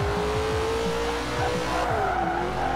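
A Chevrolet Corvette ZR-1 in Forza Horizon 4 roars steadily through a race, its engine note sliding in pitch as the tires squeal and skid across the surface, loud and close throughout.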